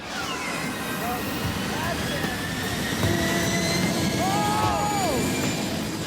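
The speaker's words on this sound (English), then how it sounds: "the jet soon reaches full throttle, whereupon the car tumbles like a toy" A jet engine roars steadily and loudly as it spools up to full throttle toward a regular car, with rising whine tones layered over the constant thunderous rush and a voice speaking over it.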